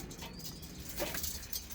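Pigeons in a loft for tournament racing birds coo softly, with low, rounded calls from nearby amid faint background noise.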